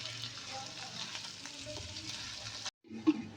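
Chicken with added spices fries and gets stirred in a pot with soft tomatoes and potatoes, a steady sizzle with scraping stir strokes that cuts out briefly, then returns near the end.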